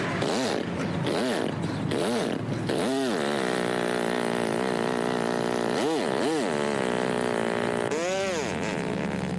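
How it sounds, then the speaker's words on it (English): A chainsaw-like roar at a chainsaw demonstration during a small engine shop's grand opening in New Hope, loud and continuous, swelling in repeated rising and falling revs. "Chainsaw demonstrations are all basically the same, loud."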